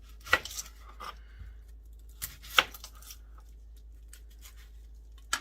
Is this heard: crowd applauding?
no